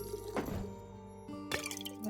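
Drink being poured in the tavern game Tavern Talk: short splashy liquid trickles and drips with a tonal ringing hum behind them, fairly soft, with two pouring bursts.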